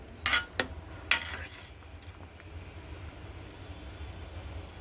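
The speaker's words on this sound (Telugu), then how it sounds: "చూడండి, ఒకసారి పప్పు తిప్పుకుందాం" Ladle stirring lentil dal cooking in a pot over a flame, three or four quick metallic clinks and scrapes close by at the start, then fading into a low, steady rumble.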